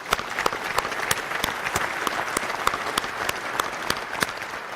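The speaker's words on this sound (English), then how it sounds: "So we can't clap for that." Crowd applause at a large charity breakfast event, dense steady clapping from many people in a big room, with a few sharper claps standing out.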